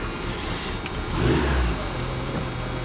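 A Plymouth Sundance engine runs steadily with a loud, rough mid-range drone, swelling briefly as it revs. Assorted rattles and noises sound close by, and no one speaks.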